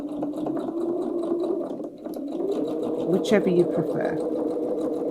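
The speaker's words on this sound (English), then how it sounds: "I'm going to lengthen my stitch, and I'm just going to top stitch around there" A sewing machine running a long top stitch with cream thread around a tote bag, a close steady mechanical whir that briefly pauses, while someone talks over it.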